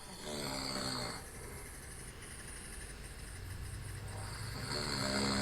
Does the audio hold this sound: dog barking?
no